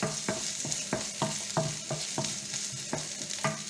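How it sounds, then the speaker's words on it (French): Zucchini stuffing with spices being stirred in a sizzling pan, a spoon scraping in a steady rhythm of about eight strokes over a soft frying hiss, close and fairly quiet with no talk. "Alors, on remue"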